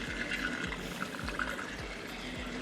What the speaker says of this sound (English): Looking here at the water feature, that's the noise.